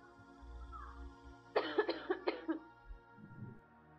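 One person coughs in a quick burst of four or five harsh, close coughs against a quiet background, trailing off with a softer final sound.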